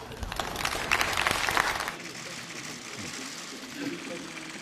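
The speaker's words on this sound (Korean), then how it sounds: "여러분 큰 박수로 환영해 주십시오" Brief burst of applause at a political party assembly welcoming the justice minister, loud clapping for about two seconds, then quieter room noise with faint murmur.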